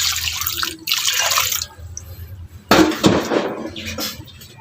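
Water poured into a cooking pot to boil pork for bagnet, a broad close splashing wash in two bursts with brief quieter dripping between them.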